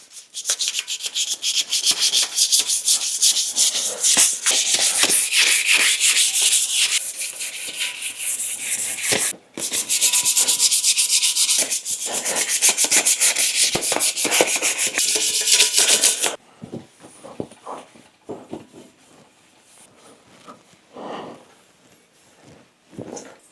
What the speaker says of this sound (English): So yeah, we'll just scuff this up, loosely sanding it to prep it for the future coats.